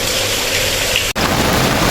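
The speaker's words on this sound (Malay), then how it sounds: "Wah, hujan makin lebat guys." Steady, dense hiss of heavy rain pouring down on a fishing boat, broken by a split-second dropout.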